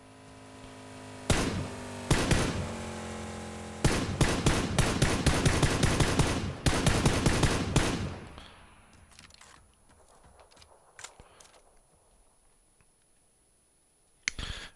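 PUBG gunfire, played on Xbox One, comes in rapid bursts of loud, sharp automatic shots in close clusters, then drops to scattered fainter distant shots separated by near silence.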